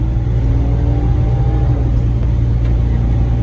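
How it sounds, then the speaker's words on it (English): A 1994 Cadillac Fleetwood Brougham's engine pulls hard as the car gets up to speed, a steady, loud low rumble with rising tonal drone sustained throughout, no talking over it. "When you're getting on this car, it really gets up and goes."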